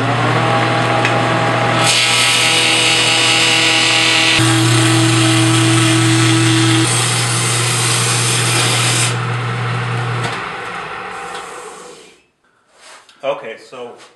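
A chisel held at an angle shaves wood on a spinning lathe, making a loud, steady rubbing and whirring drone with a motor hum underneath for about eleven seconds before it winds down and stops, followed by a few faint knocks.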